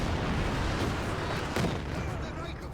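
Artillery barrage in a Soviet-versus-Axis strategy video game, a dense rumbling wash of booms and blasts with one sharper impact partway through, overlaid by excited commentary from two casters.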